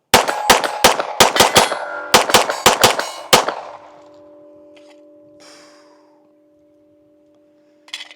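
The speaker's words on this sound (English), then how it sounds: "This gun, it really shoots" A rapid string of about a dozen pistol shots from a Stealth Arms Platypus with integrated comp, fired at steel targets. The loud, close cracks are mixed with metallic clangs, and the steel keeps ringing with a sustained tone after the last shot.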